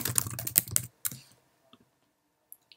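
Quick burst of keystrokes on a computer keyboard, close and clear, followed by a couple of isolated clicks and near silence.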